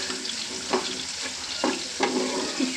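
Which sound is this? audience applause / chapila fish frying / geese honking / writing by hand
chapila fish frying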